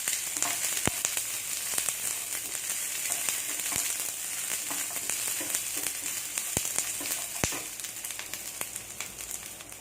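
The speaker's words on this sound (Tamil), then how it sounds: "கூடவே இஞ்சி இந்த பூண்டையும் போட்டுக்கணும் இந்த மீடியம் ஃப்ளேமில் வச்சு வதக்கிக்கோங்க" Ginger and garlic sautéing over a medium flame, a steady close sizzle and crackle with occasional sharp spatula taps against the pan, no voices.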